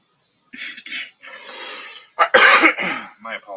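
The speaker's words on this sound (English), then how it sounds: "Sorry to cough in the mic here" A sick, congested man coughs close into a microphone, with several harsh, loud bursts and some throat clearing in quick succession against an otherwise silent background.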